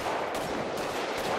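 Rapid gunfire in GTA5 as bar glasses and bottles are shot out, a dense burst of shots with crashing bursts at intervals, loud and close, no talk.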